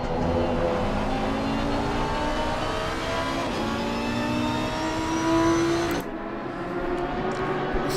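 Race car engines in a PC racing game, a Lamborghini and a Honda on the Indy circuit, roar loudly and steadily with rising and falling revs and gear shifts, then the pitch drops sharply near the end.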